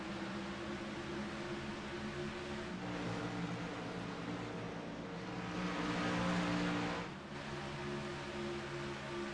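Race cars roaring around the track in a NASCAR racing video game at Texas, a steady continuous engine drone with layered tonal whines from several cars running close together, swelling slightly louder near the end.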